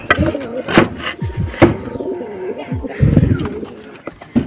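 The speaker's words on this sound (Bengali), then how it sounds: "এই যে এই যে পায়রার ঘর" Pigeons coo repeatedly close by inside a pigeon house, soft throaty calls overlapping with a few sharper chirps and light rustling.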